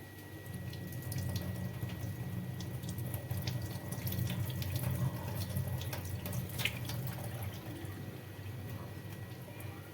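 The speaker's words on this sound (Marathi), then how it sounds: "आता याला मी स्वच्छ पाण्याने धुवून घेते" Running water splashes continuously in a sink while dried fish is rinsed and swished by hand, with occasional small clinks.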